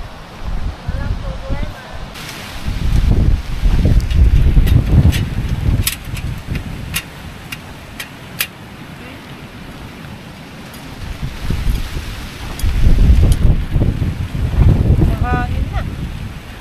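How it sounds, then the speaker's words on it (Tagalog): Strong typhoon wind at a seaside campsite in Pangasinan, roaring and buffeting in surging gusts with flapping tent fabric and surf noise, while people talk now and then. "Hangin na. Hangin ulit."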